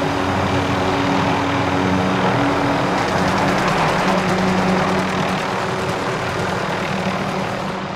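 A helicopter arriving in Call of Duty Warzone, its rotor and engine roaring loud and steady with a faint rhythmic chop, continuous throughout and close, no voices.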